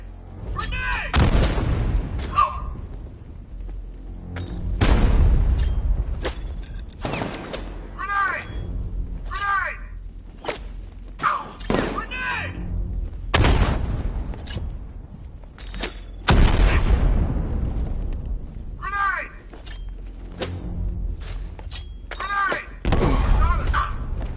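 Grenade explosions in Batman Arkham Knight, a series of loud booming blasts and gunfire bursts repeating over about twenty seconds, with shouting voices between them.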